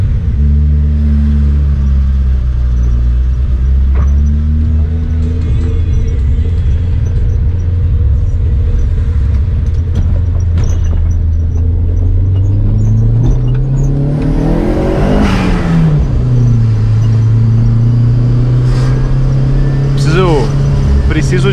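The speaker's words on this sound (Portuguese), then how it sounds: "Esse tch que vocês estão escutando é o que tá voltando tudo pela turbina." A turbocharged Chevrolet Celta drives along a road, its engine droning loudly and rising under acceleration, with a whooshing surge of air rushing back through the turbo around the middle; someone talks over the engine throughout.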